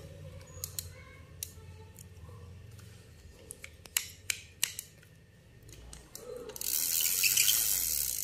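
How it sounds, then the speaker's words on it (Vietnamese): A used Japanese spinning fishing reel clicks and ticks through a series of sharp mechanical snaps as it is handled and turned, followed by a rising hiss of rushing noise near the end. "Con này nó hoạt động này, quay được rất là êm mượt."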